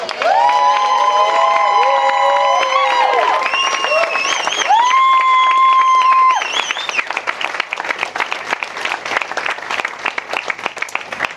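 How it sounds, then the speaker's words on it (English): Loud applause and cheering from a crowd of guests at a wedding speech, sustained clapping mixed with whoops and whistles, then settling into scattered claps. "Can we please have a big round of applause for my wife, Steph?"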